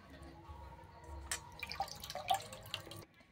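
Water drips and splashes faintly in a sink as freshly picked bok (hummingbird tree) flowers are rinsed before being made into fritters, with scattered light clinks and a low background hum.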